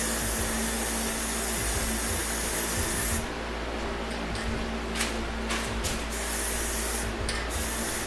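Aerosol can spraying a final wet coat of PlastiDip onto Lexus wheel rims, a steady continuous hiss that breaks into several short bursts of spraying near the end.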